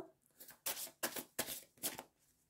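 Tarot cards are shuffled and drawn in a few quick, soft bursts of riffling card noise, close and fairly quiet, with no talking.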